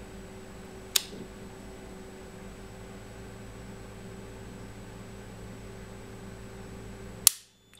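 Type B automatic circuit breaker under a time-current test: a sharp click early on, a steady electrical hum, then a loud snapping trip after several seconds that cuts the hum off abruptly.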